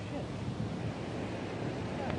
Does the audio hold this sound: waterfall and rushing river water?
yes